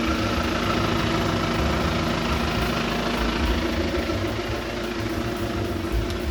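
A sailboat's engine runs at a steady idle to charge the batteries, a continuous low rumble and hum with a constant mechanical drone throughout and no talking.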